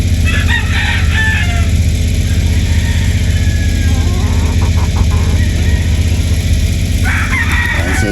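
A 3/4 Sweater 1/4 Boston broodstag rooster crows in short calls over a loud, constant low engine-like rumble, with a second brief crow near the end.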